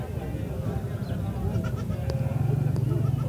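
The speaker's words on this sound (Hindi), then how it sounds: "माशाल्लाह बकरा" Goats at the Shahpur Kanjra livestock market in Lahore bleat in short calls over a busy low crowd murmur, with voices talking nearby throughout.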